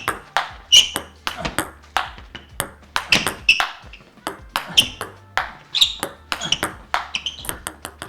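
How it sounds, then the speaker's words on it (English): Table tennis ball striking a racket faced with long pimple rubber during a rally: a steady series of crisp, close, bright ticks and pings at an even rhythm, roughly two or three hits a second. "I like the sound of this racket."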